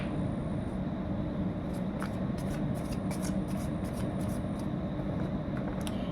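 Playing cards being shuffled for a card reading, a run of quick crisp riffling bursts repeating close by over a steady low background rustle.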